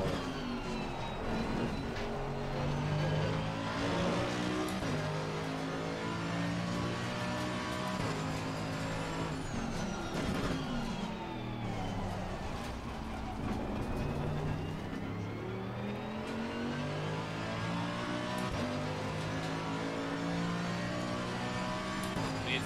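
A Mercedes AMG GT3 race car's engine drones steadily in a racing game, revving up and down through shifts for over twenty seconds at a moderate, constant level.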